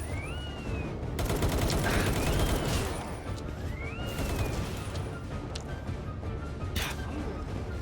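Video game gunfire, a dense continuous rattle of automatic shots and impacts over a loud action soundscape, with whistling projectile sounds throughout.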